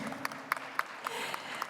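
Light, scattered applause with a few sharper claps standing out at irregular intervals, fairly faint and distant.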